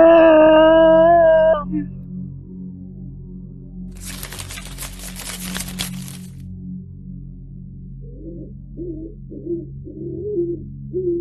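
Pigeons coo softly in a few short repeated calls near the end, after a sustained tone and a burst of fluttering in an animated horror scene.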